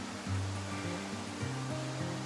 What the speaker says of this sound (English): I think this is Widow's Creek.